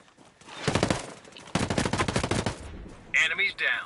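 Gunfire in the video game Ghost Recon Breakpoint comes as two close, loud bursts of rapid automatic shots, each lasting about a second. A voice speaks briefly right after.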